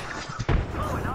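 A frag grenade detonates in Apex Legends as a single broad boom partway through, amid ongoing game noise and voice chatter.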